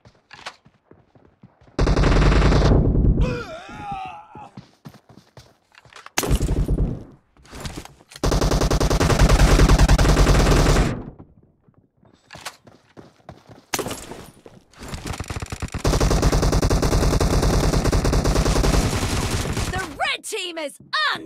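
Machine gun fire in the BGMI mobile shooter, with long loud automatic bursts separated by gaps holding quick single shots and clicks, and voices calling out between the volleys.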